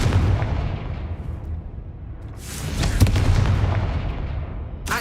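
Confringo fire spell cast in the Hogwarts Legacy video game, loud booming blasts with a burst near the middle and another sharp hit at the end over a rumbling backdrop.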